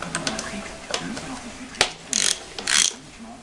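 A ratchet wrench clicks while removing 13 mm bolts from a BMW 530d E39 engine from 2000, with scattered metallic clicks and two short, bright ratcheting bursts close by, and a voice speaking softly underneath.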